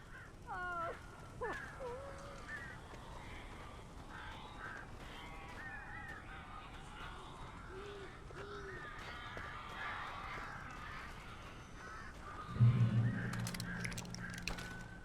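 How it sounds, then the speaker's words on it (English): Birds cawing inside a room in the game Alan Wake, several short harsh calls scattered across the scene over a low ambient hum, with a louder thud and rumble near the end. "These birds are weird."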